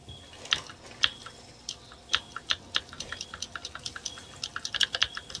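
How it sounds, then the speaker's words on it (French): Computer keyboard clicking during a Rainbow Six Siege match, irregular bursts of sharp close key taps that start sparse and quicken into a faster run toward the end, fairly quiet with no one talking. "mute toi quand ton clavier fait beaucoup de bruit"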